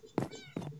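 Cats meow in the video game Minecraft, two or three short, clear meows in quick succession with nothing else in the background.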